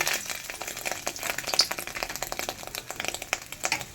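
Fish roe fritters dropped spoon by spoon into oil over a low gas flame, a dense crackling sizzle with irregular popping and bubbling, fairly close and steady throughout.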